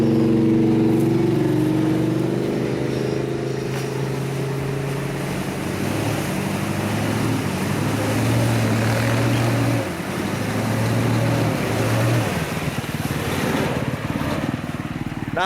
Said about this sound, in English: here we have Sean in a diesel swapped Bronco on 38s going through the quicksand mud pit